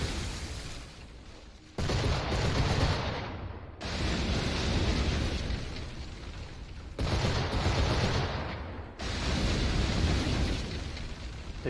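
Ship cannon fire aimed at a frigate during a naval battle in Assassin's Creed IV Black Flag, heavy booming volleys that roll in repeated blasts separated by short pauses, loud and close with a rumbling low end.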